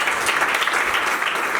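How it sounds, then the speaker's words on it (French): Wedding guests at a civil ceremony applaud the first witness, a dense, steady burst of clapping from a crowd filling the short moment. "je vous prie de bien vouloir applaudir notre premier témoin"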